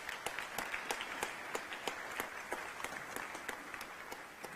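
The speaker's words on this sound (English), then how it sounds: "Can we give them a round of applause?" Audience applause at a UN Habitat Assembly panel session, sparse individual claps at a moderate, fairly steady rate heard somewhat far off and faint throughout.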